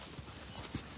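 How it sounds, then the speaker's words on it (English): Horse hooves clip-clop faintly and muffled under a steady, noisy background for about a second. "They're probably racing horses or something."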